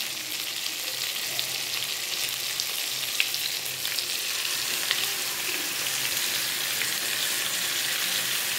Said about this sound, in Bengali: আর বেশি মনে হয় ভাজতে হবে না, প্রায় ভাজা হয়ে এসছে